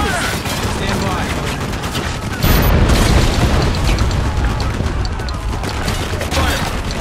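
Mortar blasts and gunfire in Spec Ops: The Line form a dense battle din of booms and rattling shots, swelling with a heavy impact midway, with voices faintly mixed in.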